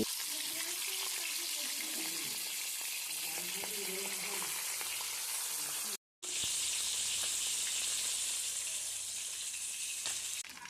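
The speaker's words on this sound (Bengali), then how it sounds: "এবার তেলটা গরম হয়ে আসলে আমি একে একে মাছগুলোকে কড়াতে ছেড়ে দিচ্ছি।" Rohu fish pieces sizzle and spit in hot oil in a wok, a steady broadband frying hiss broken by a brief silent cut midway, with faint clatter and low background sounds beneath.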